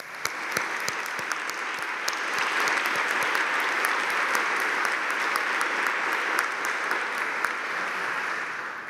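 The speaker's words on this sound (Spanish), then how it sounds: "para quienes pido un fortísimo aplauso" Sustained audience applause at a Peruvian national environmental award ceremony, a dense wash of many hands clapping steadily and fairly loudly for the whole stretch, with no speech over it.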